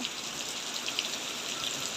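Steady rain falls continuously, a dense even hiss of drops on surfaces with no break or talk over the whole stretch.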